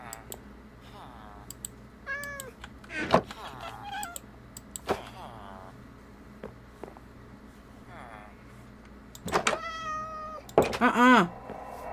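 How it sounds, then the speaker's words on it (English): Two cats in the video game Minecraft meow repeatedly, several distinct meows spread across the clip, some loud and close, mixed with scattered sharp clicks like keyboard or mouse presses. "There are two cats."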